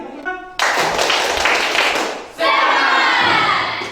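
A high school classroom of students beats out a group rhythm with thuds and claps. Loud bursts of clapping come with shouted voices, and a second dense round of clapping follows.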